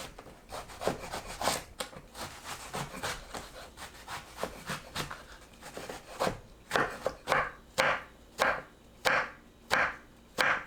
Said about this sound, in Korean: 가지도 완두콩보다 조금 크게 썰어줍니다.